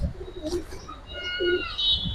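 A single red patti male pigeon gives a short, low coo at close range, with faint chirps from other birds around it and a steady background hum.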